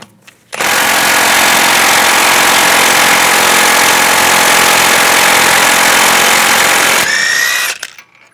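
A power tool with a socket spins off the front axle nut on a 2010-2014 Volkswagen GTI, a loud continuous whirring roar lasting several seconds that starts and stops abruptly, followed by a short rattling wind-down.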